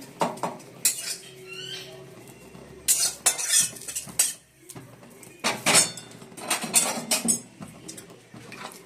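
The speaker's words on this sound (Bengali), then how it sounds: "নাড়াচাড়া করে নিতে হবে" A spoon scrapes and clatters around a pan while chhana besan curry is stirred, with irregular metallic knocks and scraping strokes close up, loud at times and unaccompanied by speech.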